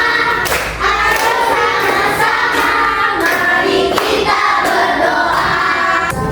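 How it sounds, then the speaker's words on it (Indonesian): Children in a classroom clap along to a finger-clapping counting song, with soft repeated thuds and taps over a busy bed of young voices and music. "Tepuk jari empat. Tepuk jari lima. Berbunyi semua."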